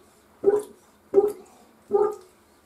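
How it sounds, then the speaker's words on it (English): A Pittsburgh hand transfer pump pushes air into toilet bowl water, giving three evenly spaced gurgling bubbling bursts about three quarters of a second apart, close and moderately loud with quiet gaps between. "it looks like it's blowing air in there"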